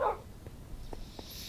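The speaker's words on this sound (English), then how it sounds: "we got two dogs in here" Dogs in the Minecraft video game: a few faint, short yips and whimpers that are sparse and quiet.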